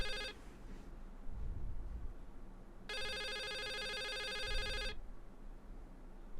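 Telephone in the video game The Suicide of Rachel Foster rings with a bright electronic trill, two bursts separated by a pause of about two seconds, loud over a quiet low background hum.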